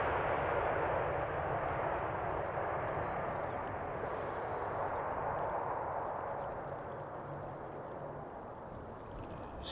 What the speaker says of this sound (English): Not the highest of RPMs that we've ever heard from a Dreamliner.